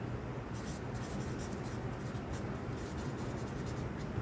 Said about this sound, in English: I'm going to write here capsicum,